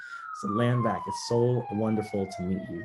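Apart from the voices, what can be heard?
police sirens outside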